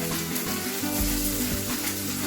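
Ginger garlic paste frying in a pan for potato vada, giving a steady broadband sizzle with a few soft stirring scrapes and no voices.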